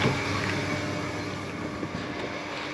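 A compressor aboard a boat runs with a steady, loud mechanical hum and hiss that stays constant throughout, close by, with wind-like noise and no talk.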